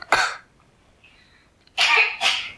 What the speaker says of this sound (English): I just can't stop coughing.